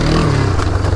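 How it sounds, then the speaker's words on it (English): A motorcycle engine roars loud and close as the rider pulls a wheelie, a brief rough burst of revving with some clatter, and no voices. "Little wheelie there, that got a little out of control."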